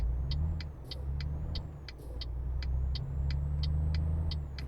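A truck in Euro Truck Simulator 2 pulls away from traffic lights, its engine giving a low, steady rumble that swells and dips, with a regular series of short, sharp ticking beeps repeating over it and no talk.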